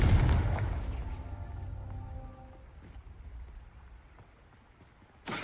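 A spell explosion from the Confringo fire curse in the video game Hogwarts Legacy: a loud, heavy boom at the start with a low rumbling tail that slowly fades, then a second sharp burst near the end.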